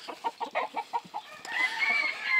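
White-crested cuckoo chickens cluck in a quick series of short, moderately close calls, followed by a busier stretch of overlapping fowl sounds and background noise.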